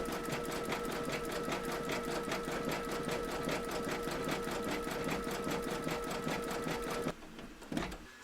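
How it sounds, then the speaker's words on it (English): An embroidery machine satin stitches a border in gold thread, with a fast, even mechanical whirring and rapid rhythmic needle clatter, close and continuous, stopping near the end followed by faint handling noises. "Load your matching bobbin and thread colour for the satin stitching around the border into your machine, and then stitch round number 17."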